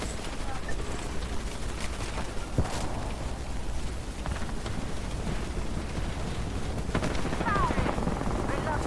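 Gunfire in the Apex Legends video game plays in dense bursts over a busy in-game soundscape with a steady rumbling backdrop, moderately loud and continuous.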